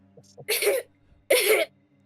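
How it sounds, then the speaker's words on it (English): Two harsh, close coughs, one after the other with a short pause between, over a faint background hum. "Coughing and sneezing, your eyes are all super watery."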